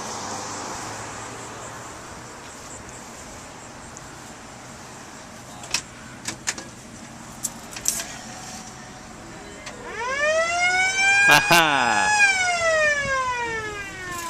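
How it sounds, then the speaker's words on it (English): A brief laugh and some clicks over idling engine noise from a vintage Plymouth police car, then its cat siren winds up loudly and wails with a rising, falling tone. "it has what they call a cat siren"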